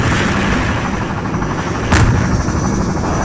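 Heavy, continuous enemy gunfire in Half-Life 2: Episode One pounds loud and close, tearing apart cover and floor, with one sharp impact standing out partway through.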